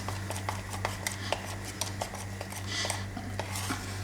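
Pakoda batter of gram flour being mixed with salt, red chili powder and turmeric, a quiet series of rhythmic taps and scrapes of a spoon against a bowl, close and faint over low background hum.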